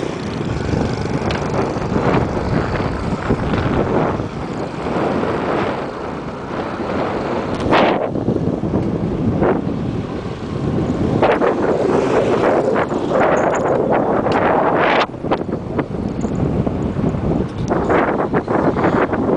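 Strong wind blowing across an open coastal area by the sea near fishing ponds, buffeting the microphone in a steady loud roar with gusty surges throughout, no voices present.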